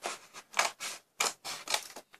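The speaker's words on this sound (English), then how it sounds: "I'm gonna cut this part out" Scissors cutting through a paper jack-o-lantern mask, a rapid series of about six crisp, close snips with short pauses between them.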